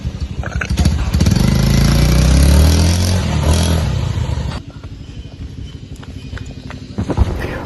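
A motorcycle engine roars loudly nearby as the bike is ridden off by a thief, then the noise drops away into a quieter, more distant rumble.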